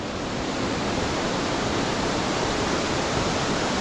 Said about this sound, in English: It's water dripping off the top all the time.